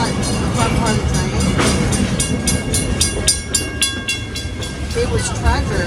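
The Walt Disney World Railroad steam train running out of Main Street Station, heard from on board: a steady loud rumble with rhythmic clickety-clack of wheels on rail joints, with someone talking over it.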